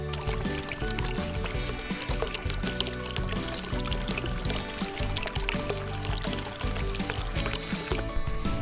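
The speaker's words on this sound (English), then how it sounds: "Now all I have to do is pour my resin on top of my pins." A continuous thin pouring of resin runs steadily throughout onto pins, close and fairly even, with small trickling sounds and no voices.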